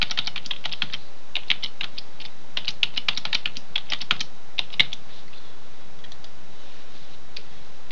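Rapid keystrokes on a computer keyboard enter a password, a close, dense run of clicks for about five seconds before the typing stops and leaves quiet room tone.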